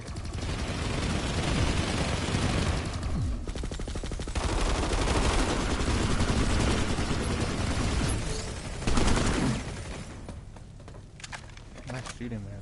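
Rapid automatic gunfire in the video game Planetside 2, dense bursts running nearly continuously and loud, with players talking over the shooting.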